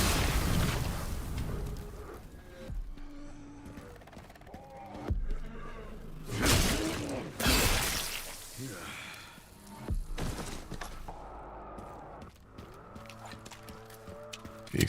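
Explosions in the video game Resident Evil Requiem: two loud broadband booms close together mid-scene, framed by scattered thuds, clatter and other game effects.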